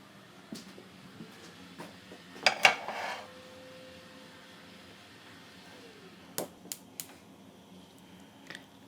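A metal lid settles onto a cooking pot in a chef's kitchen, a cluster of sharp clinks and a brief rattle, followed later by a few fainter taps against a quiet background.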